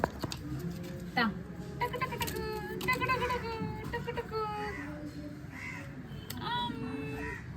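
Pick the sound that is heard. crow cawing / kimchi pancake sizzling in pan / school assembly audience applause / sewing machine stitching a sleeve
crow cawing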